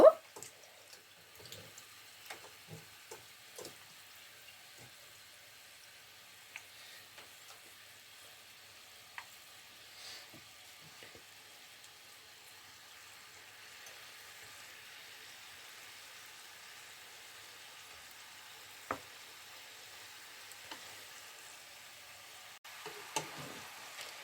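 Mini bondas fry in oil over medium heat with a faint, continuous bubbling sizzle and scattered small pops and clicks, heard alone and fairly quiet throughout.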